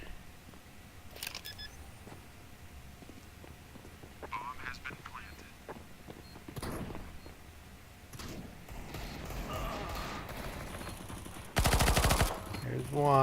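Counter-Strike gunfire on the Shortdust map: scattered sharp shots, then a dense burst of rapid fire near the end, close and punchy, while someone talks over the game sounds.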